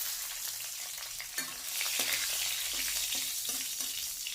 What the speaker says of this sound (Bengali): কালো জিরেটাকে তেলের উপরে একটু ভেজে নেব